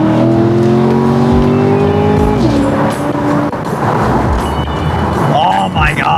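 A Corvette accelerates hard on a sunny drive, its engine roaring loud and close as the pitch climbs steadily, drops at a gear change and climbs again, with tire and wind noise beneath.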